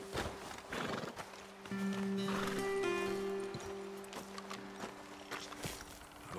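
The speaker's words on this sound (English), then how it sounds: "Best leave the horses back a bit." In Red Dead Redemption 2, a horse's hooves clop and shuffle nearby and a whinny rises, all quiet and set against steady ambient game music tones.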